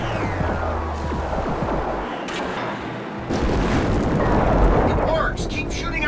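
Gunfire at vents and a burst of explosions in a Star Trek PC action game, loud rumbling blasts over a dense battle din, swelling louder midway.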